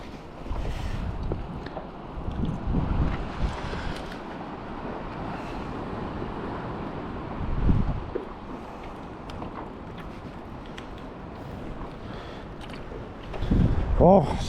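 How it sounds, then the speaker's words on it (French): Gusty wind buffets the microphone while someone pedals a bicycle outdoors, a steady low rumble with louder gusts around the middle and near the end. "le vent il s'est levé là"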